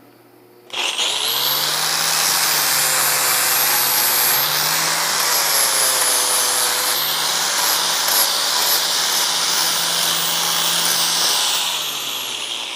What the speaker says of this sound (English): I have an angle grinder out.